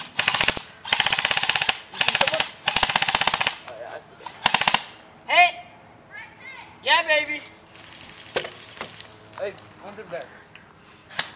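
Airsoft guns firing during an outdoor airsoft game, rapid bursts of plastic-pellet shots in quick runs, close and loud, with players shouting in between.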